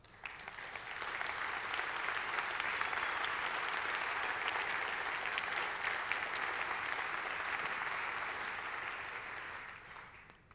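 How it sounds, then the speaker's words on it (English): A conference audience at a Bitcoin SV payments talk claps steadily for about ten seconds, a dense even wash of applause that swells, holds, then fades out at the end. "please stand up and give you guys a round of applause"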